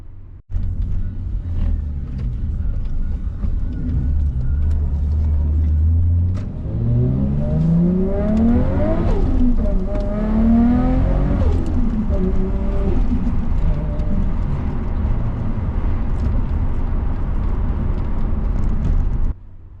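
A Toyota Soarer JZZ30 fitted with MCA Pro Comfort coilovers drives along a road, its engine rumbling steadily close up, with rising and falling rev sweeps through the middle as it accelerates and shifts, road noise continuous throughout.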